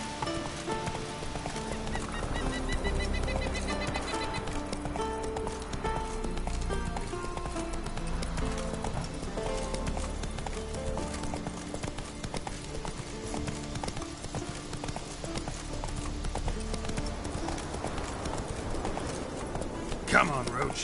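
Hooves of the horse Roach galloping in the game The Witcher 3, a fast continuous clip-clop running throughout under background game music and ambience, with someone talking at times.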